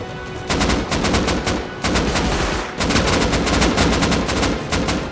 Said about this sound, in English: it's basically just gunfire 24/7.